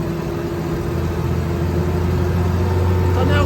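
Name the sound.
Ferret armoured car engine revving in third gear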